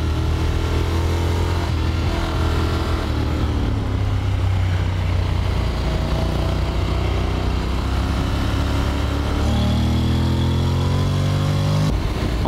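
A Honda X-ADV 750 motorcycle engine runs while riding, a loud, continuous mid-pitched drone that rises and falls with throttle and speed changes, close up and with no talking.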